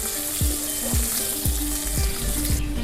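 Chopped onions slowly browning in a little oil, frying with a continuous bubbling sizzle and a spatula scraping the pan at a steady rhythm, close and alone.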